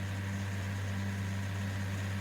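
Tractor engine in Farming Simulator 19 straining as it pulls heavy wheat wagons, a steady low droning hum with a constant tonal whine, alone and unbroken.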